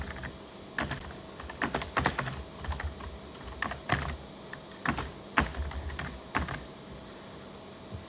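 Fingers tap on a computer keyboard while typing in MS Word, producing irregular clusters of sharp, close clicks with short pauses between bursts.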